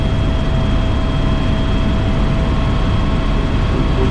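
An AS355 Twin Squirrel twin-engine helicopter accelerates in flight, a loud, steady, dense roar of engine and rotor heard from inside the cabin, unbroken and without any voices.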